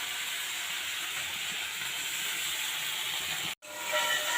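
Katla fish pieces with mango fry in hot oil, giving a steady, dense sizzling hiss that continues throughout and briefly cuts out near the end before resuming.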